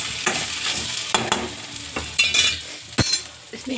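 A spoon stirs a roasted mixture with crushed chili and salt in a hot pan, giving soft sizzling under several sharp scrapes and clinks against the metal, close and intermittent.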